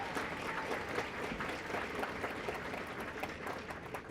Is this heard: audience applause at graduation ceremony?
yes